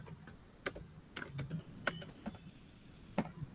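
Quick taps on a computer keyboard while a short word is entered, irregular clicks in small bursts with pauses between, close and fairly quiet against a faint room hiss, no talking.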